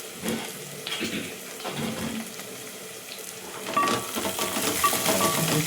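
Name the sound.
water poured into cooking pot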